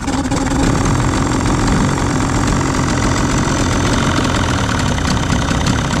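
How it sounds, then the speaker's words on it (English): A Carolina Skiff outboard boat motor idles steadily and close by, a continuous mid-low engine drone with no voices over it. "That's perfect idle right there."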